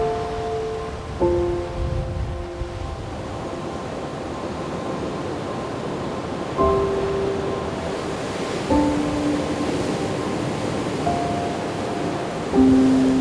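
Surf washing onto Turtle Beach, a small tropical beach in East Arnhem Land, as a steady broadband wash with gentle swells, while faint tonal bird calls ring out intermittently above it.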